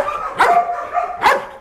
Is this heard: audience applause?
no